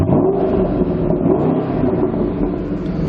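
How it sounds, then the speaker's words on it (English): A 2011 Ford Mustang's supercharged V8 rumbles loudly and steadily up close, with a couple of swelling revs rising over a deep, continuous growl. "I'll give the exhaust a couple stabs just so you can hear how nice that engine sounds"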